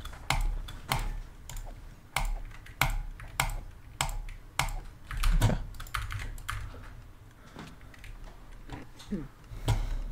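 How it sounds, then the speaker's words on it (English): Typing on a computer keyboard for ASMR, close and crisp, with irregular bursts of sharp clicky keystrokes and pauses between them, and faint talking in the background. "Wait, let me put my keyboard up. Listen."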